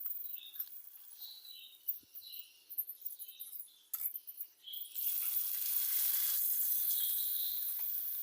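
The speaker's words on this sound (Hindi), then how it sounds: "तो यहाँ आपने इसी तरह फ्राई करना है सारी मछली को।" Fish frying in oil for Jamshoro-style Hyderabad fried fish gives a soft, hissing sizzle that rises and falls unevenly at first, then settles into a steadier, brighter hiss.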